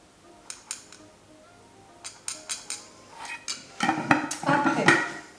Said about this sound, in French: je prends un grand bol et je mets grosso modo tous les ingrédients